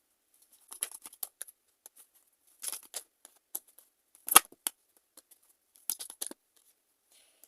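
Tarot cards are shuffled and drawn in quiet, scattered bursts of crisp flicks and snaps, with one sharper slap midway and near silence between them.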